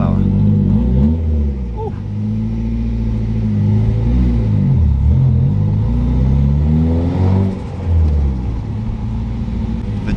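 Car engine revving and rumbling as a drift car slides, loud and close with rising and falling pulls, while people chat over it.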